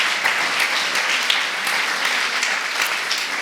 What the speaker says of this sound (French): Léo et Camille, on peut les applaudir